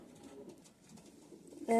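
Soft, low pigeon coos from a bird being handled in a breeding loft, faint and close, followed by a brief louder burst of noise at the very end.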